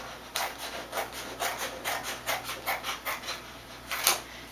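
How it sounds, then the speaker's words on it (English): Scissors cutting a paper file folder lengthwise, about a dozen rhythmic crisp snips and rasps in a steady pulse, close and clear with no talk. "take a second file folder and you're going to cut it right down the middle, like this"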